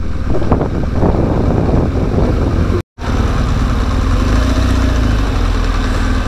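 BMW GS motorcycle engine idling and revving in congested Algiers traffic, a loud, steady close-up rumble with wind buffeting the microphone and one brief dropout midway.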